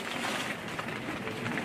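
Heavy rain falls steadily as a constant dense hiss with no pauses and no voices.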